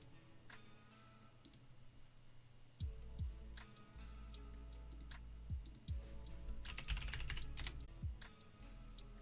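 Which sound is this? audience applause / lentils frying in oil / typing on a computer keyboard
typing on a computer keyboard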